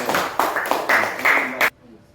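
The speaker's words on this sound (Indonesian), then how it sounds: "tepuk tangan dulu untuk kelompok 1" Classmates clapping for a group presentation, a brief burst of close applause with a voice mixed in, stopping abruptly.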